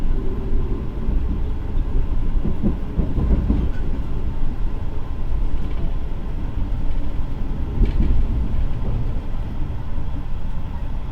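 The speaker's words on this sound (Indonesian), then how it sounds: "Untuk perjalanan kereta api Argo Lau dari arah Jakarta menuju ke kota Solo, untuk perjalanannya ini full pada malam hari ya." The Argo Lawu executive passenger train runs on its tracks at night between Jakarta and Solo, a steady low rumble with faint rail clatter and a few soft knocks, heard continuously without voices.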